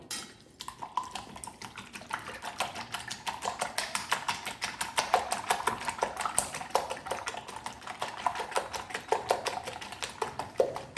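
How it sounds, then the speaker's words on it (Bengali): Rapid, steady whisking of a chicken burger mixture seasoned with mixed herbs and salt in a bowl, a dense run of quick clicking strokes that carries on evenly throughout at close range. "আর একটুখানি নুন। দিয়ে আমি এটাকে ভালো করে ফেটিয়ে নেব।"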